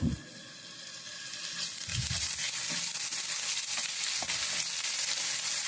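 Onions fried to golden brown with ginger garlic paste added, sizzling steadily in a pan for a bottle gourd gravy, with a few soft scraping stirs, close and continuous, no talking.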